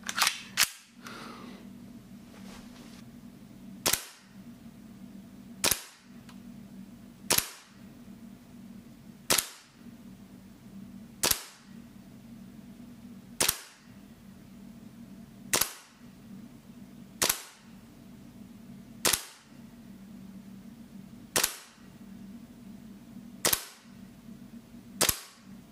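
ECCB Cybergun Desert Eagle gel blaster firing single gas-powered shots, a dozen sharp close pops spaced roughly two seconds apart over a faint steady hum.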